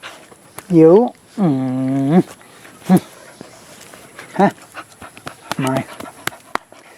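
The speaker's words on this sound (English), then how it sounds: "So that's the dogs, as always, making a noise, getting in the way." Several short yelping barks and whines from dogs nearby, with bursts of panting between them, irregular and fairly loud.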